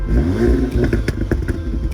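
A 2017 Audi S3 engine revs hard with a deep, rumbling exhaust, followed by a few sharp pops and crackles, close and loud.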